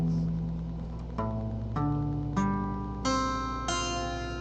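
Guitar chords in perfect fourth tuning, strummed one after another in six distinct strikes, each ringing briefly and decaying cleanly, close and moderately quiet with no talking.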